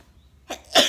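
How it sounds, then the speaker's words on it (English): A single sharp sneeze, with a brief intake of breath just before it, close and fairly loud against near silence. "I sneezed."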